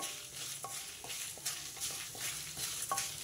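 Dried red chilies frying in a pan, a soft, fairly quiet sizzle broken by irregular clicks and scrapes of a spoon stirring them.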